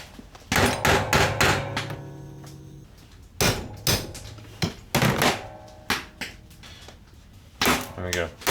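Sharp metallic taps ring out on a bar of brass in irregular clusters, some in quick bursts and some single, close and bright with short resonant ringing, during winter scrap sorting.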